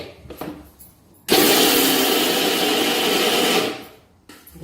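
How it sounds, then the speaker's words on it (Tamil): A kitchen mixer grinder coarsely grinds soaked lentils for paruppu usili with kothavarangai, a loud steady whir running for about two and a half seconds, then cutting off, with quiet handling noise before and after. "இதை நம்ம மறுபடியும் குறைன்னு அரைக்கணும்"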